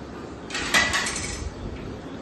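A metal lid set down onto a cooking pot gives a short cluster of clinks and rattles, close by and alone, while roadside masala puri is being prepared.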